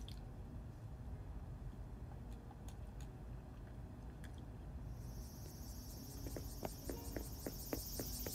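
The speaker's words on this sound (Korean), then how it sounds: "와, 여름 같은데? 매미소리 리얼해." Cicadas chirp in a summer scene of a video game, set near an insect exhibit in a museum, as a steady bright buzz that rises in the second half over faint clicks and ticks, with no talking.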